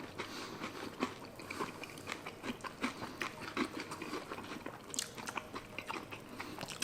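Several people chew breakfast cereal such as Corn Pops, Fruit Loops and Rice Krispies in a race, close, quiet crunching and munching in quick irregular bites throughout.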